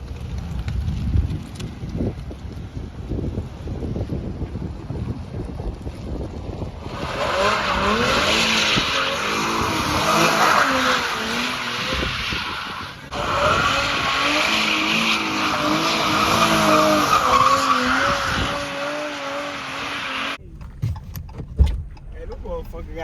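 A car slides and skids on a wet road in the rain, with broadband tire and spray noise and engine rumble swelling in long loud stretches, under wind noise and voices talking nearby.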